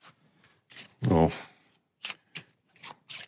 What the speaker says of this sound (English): got our play deck here. We'll shuffle that,